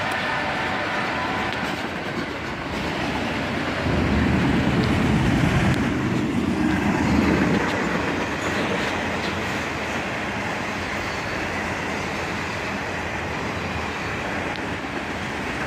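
A northbound freight autorack train led by two ET-44AH locomotives rolls past at track speed at dusk, a sustained rumbling roar that swells midway and then settles into a steady rolling clatter.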